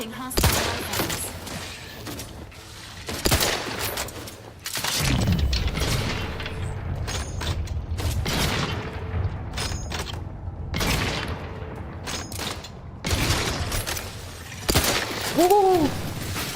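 Combat gunfire in the video game The Outer Worlds 2, with loud bursts of rapid shots and booming impacts coming in waves, a voice talking in between.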